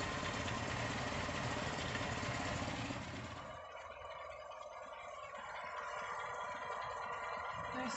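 A 1979 Land Rover Series 3 Lightweight engine idles steadily and quietly, a low even rumble that drops a little in level partway through and continues without a break.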